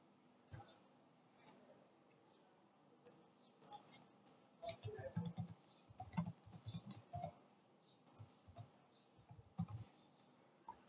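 A computer keyboard clicks in quiet, irregular bursts of keystrokes as a connection name is typed in a Salesforce setup screen. The typing is faint and close, with short pauses between runs.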